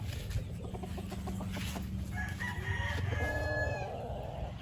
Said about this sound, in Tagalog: So ito karamihan ng manok dito kay Bapan Loisel.